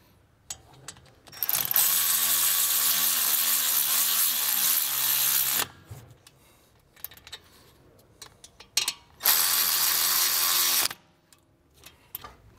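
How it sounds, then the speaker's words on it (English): A hand ratchet tightens the brake caliper guide pin bolts on a BMW X5 or X6, giving two long bursts of rapid, loud clicking separated by quieter handling noises and brief clicks, close up. "Once they're bottomed out, you know, with a hand ratchet, they're gonna be tight enough."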